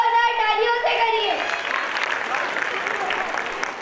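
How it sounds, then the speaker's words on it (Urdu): Audience applause at a school annual gathering program at an Urdu school, rising into dense, steady clapping across the hall after a voice over music at the start. "ان کا استقبال زوردار تالیوں سے کریے."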